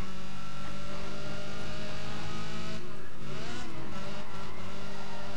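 Engine of a tuned race car in Need for Speed ProStreet, on a short Chicago Showdown track, drones steadily and loudly throughout, with tire scrub and a brief skid near the end; no talking.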